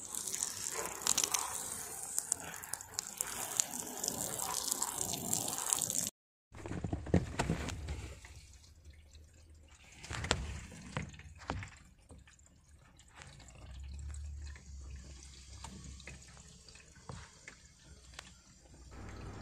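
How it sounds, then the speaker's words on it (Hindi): Water from a hose pours over a car roof in a loud, steady gushing splash, then cuts out briefly and returns as quieter, uneven splattering and trickling. "तो मैं पहला पानी पाइप से डाल के देखता हूँ गाड़ी के ऊपर कहाँ से एंट्री करता है।"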